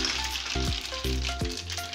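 Chopped garlic sizzles in hot oil with kalonji seeds and mustard powder as a tempering for mung dal, a dense steady hiss close by, with a few short tonal clinks and thumps over it.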